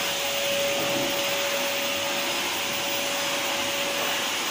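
A household vacuum cleaner runs steadily at close range, a loud continuous whooshing roar with a steady whine that never changes, alone without talk.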